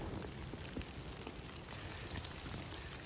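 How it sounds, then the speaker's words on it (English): Light rain begins outdoors near an old minnow pond in the woods, a soft, steady patter with scattered drops and no talking. "The rain is starting."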